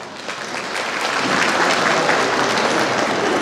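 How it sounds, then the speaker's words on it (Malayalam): Sustained, dense applause from a school audience of parents, steady and full throughout, swelling slightly after the first second with no voices over it. "ഇത് ഏറ്റെടുക്കുന്നുണ്ടെങ്കിൽ കൈയടിക്കുക"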